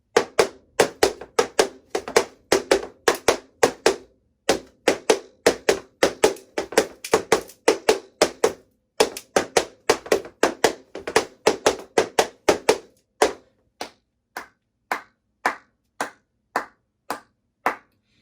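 Tap dance steps starting on the right foot and repeated as a phrase three times, heard as crisp, close, rhythmic taps in quick clusters that thin out into slower, evenly spaced single taps toward the end.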